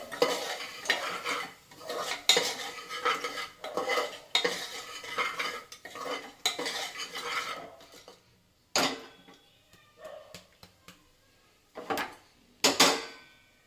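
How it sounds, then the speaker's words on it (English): Garlic paste and onion are stirred in a pan for pork with mustard: bursts of metal spoon scraping and clattering against the pan, close and rhythmic at first, then sparser strokes with pauses between. "garlic paste along with the onion. Make sure you stir it properly."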